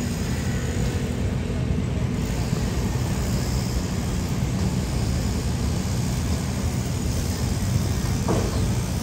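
Continuous low rumble of a passing MRT elevated train above EDSA near Guadalupe, Manila, heavy and steady, with a broad roar filling the whole stretch and no talking.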